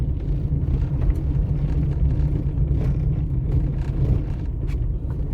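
A car drives along a small, narrow community road, its engine and tyres giving a steady low rumble that stays loud and even throughout, with no voices.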